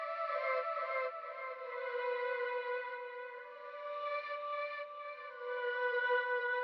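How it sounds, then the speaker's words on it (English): Arcade-style synth sample used in a hip-hop beat, a sustained bright buzzy tone with shifting harmonics, drenched in echo and distortion, playing steadily and loudly without pause. "Then lastly, I used this arcade sample that sounds like this."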